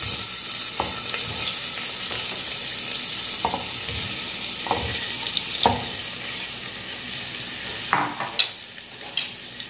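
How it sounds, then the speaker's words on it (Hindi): Sliced onions fry in ghee with cumin and turmeric in a pressure cooker, a steady close sizzle broken by repeated scrapes and clanks of a spoon stirring against the metal pot. "अब हम कुकर में अपनी स्लाइस की हुई प्याज को डाल देंगे।"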